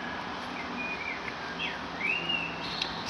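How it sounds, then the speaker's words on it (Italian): A small bird sings outdoors, giving thin rising and falling whistled notes in short phrases over steady background hiss, moderately close, no talking. "Sì, gli uccellini si sentono."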